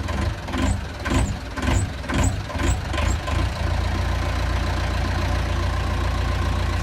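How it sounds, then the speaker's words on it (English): A narrowboat engine sputters and knocks unevenly for a few seconds as the throttle is eased back, then settles into a steady low rumbling idle without stalling. "Whenever I'm bringing the throttle back, she sputters, but she doesn't die like she did before."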